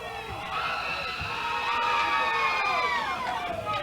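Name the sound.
wrestling crowd cheering wildly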